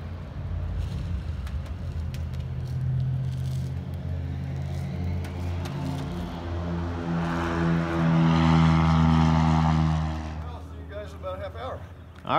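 A Viking 130 light aircraft engine drones steadily nearby, its propeller hum building louder toward the end before dropping off, with voices talking over it.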